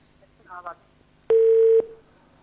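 After a telephone call cuts off, a steady dial tone sounds for about half a second, clear and close, preceded by a brief faint voice on the line.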